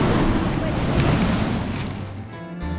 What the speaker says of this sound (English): the reckless waves were crashing violently against the enormous rock formations